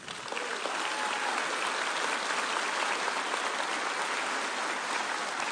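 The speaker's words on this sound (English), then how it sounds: "give yourselves a round of applause" Graduates and the crowd at a spring college commencement break into applause, a broad, even roar of clapping that swells in quickly and holds strong throughout.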